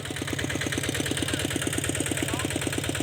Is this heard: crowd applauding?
no